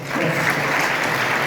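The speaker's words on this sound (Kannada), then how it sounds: "ಜೋರದ ಚಪ್ಪಾಳೆ." Loud, sustained applause from an audience at a Kannada-language school quiz, a dense steady wash of clapping that continues without pause throughout.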